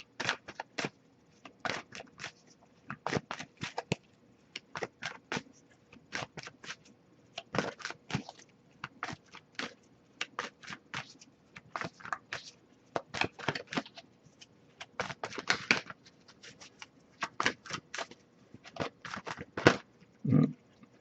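An oracle card deck is handled and shuffled in repeated quick riffling bursts, close and crisp, with brief pauses between the sharp papery flurries.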